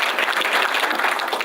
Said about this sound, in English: So how about a round of applause for her?